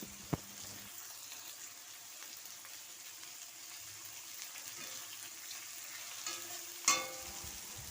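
Garlic paste frying in a pan, a quiet steady sizzle under a few clinks and stirring scrapes, ending with a sharper burst of spatter near the end.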